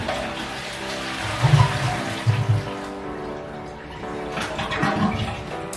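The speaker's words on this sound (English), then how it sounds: "I'm gonna go ahead and flush it here and let you check it out." A high-tank pull-chain toilet flushing, a surging rush of water with low gurgles that rises, eases, then builds again as the bowl drains and refills, heard close in a quiet room.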